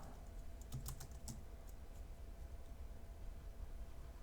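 Quick bursts of clicks from a computer keyboard, close and fairly faint, clustered in the first second and a half and then tapering into quiet room tone.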